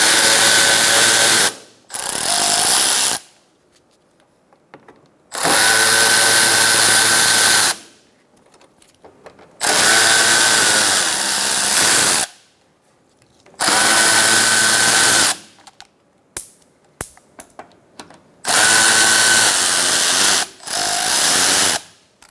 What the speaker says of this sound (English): Using a T30 Torx bit socket, you're going to remove 1, 2, 3, 4, 5 screws.